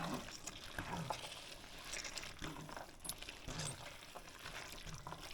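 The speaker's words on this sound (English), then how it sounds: "And now we're going to add in the vegetable broth." Vegetable broth is poured into a pot of chili with pinto and black beans, a faint, uneven trickling and splashing flow that is quiet and close.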